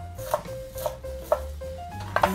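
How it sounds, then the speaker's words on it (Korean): A knife chops spring onions on a board in a few distinct, close knocks with gaps between them, heard without talk. "먼저 쪽파를 좀 썰어주세요"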